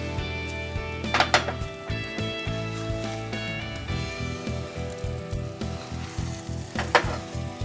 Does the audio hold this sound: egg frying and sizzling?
yes